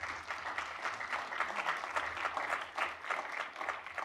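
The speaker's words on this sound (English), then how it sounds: "Let's give our candidates a round of applause." Audience at a Minneapolis mayoral forum applauding the candidates, an even, continuous patter of many hands clapping, moderately distant and fairly quiet.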